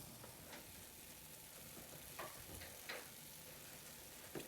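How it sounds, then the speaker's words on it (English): Jamaican festival dumpling dough frying in hot oil, a steady low sizzle broken by a few soft pops and crackles. No one speaks over it. "now we're just going to put it in our oil and fry"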